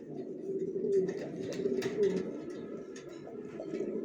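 Racer pigeons, newly adult birds, cooing steadily and close by over about four seconds, with soft overlapping throaty coos and a faint background hum.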